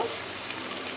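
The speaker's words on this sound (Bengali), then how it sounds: "এখন আদা রসুনটা একটু ভাজা ভাজা করে দিয়ে দেবো" Ginger-garlic paste and onion fry in a pan with a steady, dense sizzle and faint stirring, close and continuous for the whole second with no talk.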